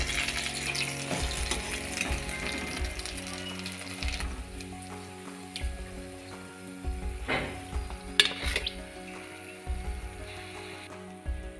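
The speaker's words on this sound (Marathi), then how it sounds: "हे बघा अशा प्रकारे आपल्याला मीडियम आचेवर हे तळून घ्यायचे असे खरपूस." Aloo paneer cheese rolls fry in oil over medium heat, a continuous close crackling sizzle with bursts of bubbling, and stirring or utensil clinks break in now and then.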